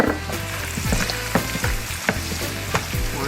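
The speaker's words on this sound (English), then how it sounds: "we're going to stir this around and make sure our vegetables are softened pretty good" Vegetables and bacon fry loudly in a pan for blackeye peas and rice, a dense close sizzle punctuated by repeated scraping and clacking strokes of a stirring utensil against the pan.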